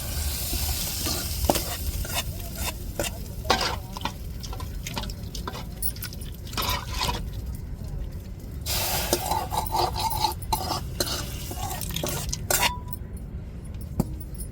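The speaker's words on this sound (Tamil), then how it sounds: "இப்போ தாளிச்சாச்சு குழம்புல அப்படியே சேர்த்துருவோம் தாளிப்பை" Hot tempering crackles and sizzles as it is poured and stirred into a conch meat curry, with a spoon clinking against the pot. The frying hiss stays loud and close throughout, with intermittent metallic scrapes.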